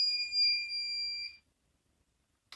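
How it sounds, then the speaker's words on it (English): A PBT buzzbox, a fencing hit-indicator box with sound only, gives a single steady high-pitched electronic beep lasting just over a second when its circuit is closed, then falls silent. "you get a beeping sound."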